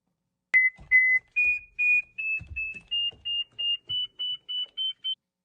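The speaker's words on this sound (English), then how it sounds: "that is the sound of a Berry Vox from Mammut" Mammut Barryvox avalanche beacon emitting a steady series of about a dozen short, high electronic beeps, evenly spaced and quickening slightly, clear and alone with faint handling noise underneath.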